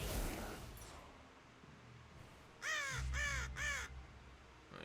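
A crow caws three times in quick succession in a Lord of the Rings adventure card video game, harsh, clear calls rising over a quiet background after some earlier rustling noise.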